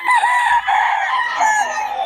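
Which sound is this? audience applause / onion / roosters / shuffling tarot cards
roosters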